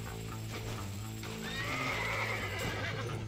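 A horse in the Red Dead Redemption video game neighs with a rising whinny over clip-clopping hooves, heard against a steady game background.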